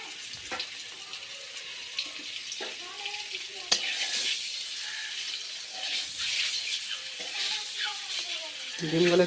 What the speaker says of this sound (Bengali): ডিমগুলো একটু ভেজে নেবো